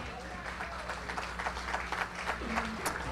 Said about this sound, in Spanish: ¿Cuánto le dan un aplauso a estos maestros de escuela dominical?